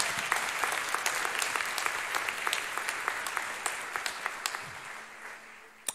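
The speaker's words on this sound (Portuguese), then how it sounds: "Aplauda Ele esta noite." A church congregation applauds together, steady close clapping that gradually thins out and fades, ending with a few isolated claps.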